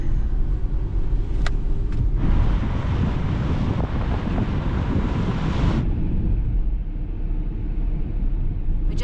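A car drives through the Serbian town of Užice, its engine and road rumble steady and close, with loud wind buffeting the microphone the whole time and a brief click near the start.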